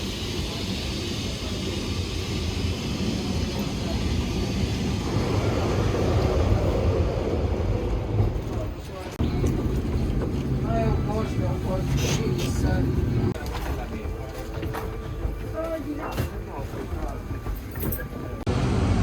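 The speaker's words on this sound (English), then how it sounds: "This is the tram right here that we're waiting on." A Lisbon tram rumbles and hums steadily for a long stretch, with squeals and clatter from the wheels as it rides along, and voices talking nearby.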